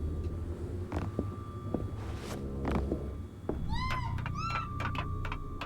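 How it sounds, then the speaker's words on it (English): A cat meows twice in quick succession in the video game Minute of Islands, clear and fairly close, over a soft background with light ticking and clicks. "I hear meowing."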